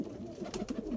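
A female golden pigeon cooing softly, low rolling coos close by over a light background hiss, with no talk.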